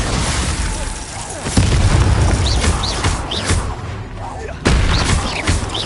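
Bombarda spell blasts in the game Hogwarts Legacy land as a few sharp, loud booming bursts amid crackling magical effects, with a short shouted voice in the mix.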